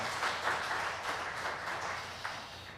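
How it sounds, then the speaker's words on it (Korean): A congregation at a Sunday church worship service applauds together, a steady wash of many hands clapping that holds for a few seconds. "하나님 앞에 영광의 박수 올려드리겠습니다."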